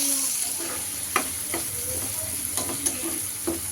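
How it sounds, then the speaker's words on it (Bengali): Fish frying in oil in a pan gives a steady soft sizzle, broken by a few sharp metallic clinks and scrapes of a utensil at irregular intervals, close by with no talk. "মাছ ভাজা মোটামুটি হয়ে গেছে"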